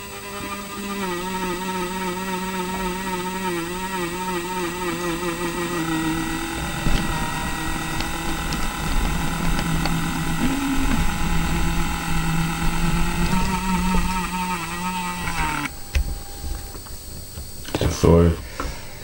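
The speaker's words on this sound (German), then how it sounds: "Manche meinen, diese Lok hätte einen viel zu lauten Motorsound." A Roco V 100 model diesel locomotive runs with its sound module switched off, leaving a steady whirring motor hum with wavering tonal whine that shifts near the end.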